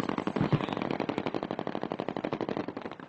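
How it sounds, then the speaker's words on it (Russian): Blank gunfire in a rapid, continuous automatic burst, dozens of sharp cracks in a steady rhythm, fired as a diversion during a counter-terrorism assault drill, with a heavier thump near the start. "произведены отвлекающие взрывы и стрельба холостыми патронами"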